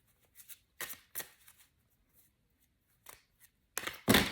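Tarot cards are shuffled close up: several crisp riffling bursts with short gaps, ending in a louder, fuller shuffle.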